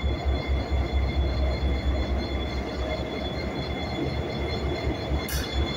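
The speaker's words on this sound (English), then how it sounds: "This is the locomotive, y'all." A Metra train locomotive rumbles close and loud in a continuous heavy drone, with a short high squeal near the end.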